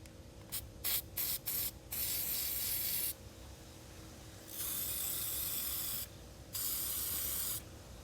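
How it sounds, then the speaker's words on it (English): Aerosol can of battery terminal protector sprayed onto a car battery in several bursts: a few short hisses, then three longer sustained sprays separated by pauses, close and fairly loud. "Now, battery terminal protector."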